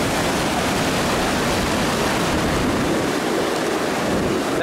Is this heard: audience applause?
no